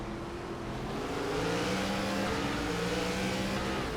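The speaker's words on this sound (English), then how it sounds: "A lot of cars spinning the tires." ARCA stock cars race at Kern, engines droning and revving steadily in a continuous roar, with rising pitch as tires spin and RPMs climb.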